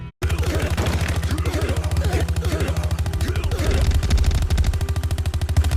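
Rapid sustained gunfire from Red Dead Redemption 2 on PS5, a dense rattle of shots over a low rumble with game music underneath, loud and continuous throughout.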